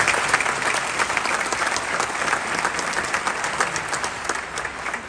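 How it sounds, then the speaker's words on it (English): Audience applause fills the chamber at the inauguration of the Illinois House of Representatives, a dense, steady clapping from a large crowd that stays even throughout with no voices. "All of you, give yourselves a round of applause."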